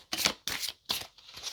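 Tarot cards being shuffled by hand, close and soft, in three or four quick riffling bursts separated by short pauses.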